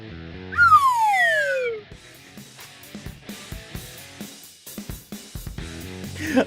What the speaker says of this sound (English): I bought a slide whistle.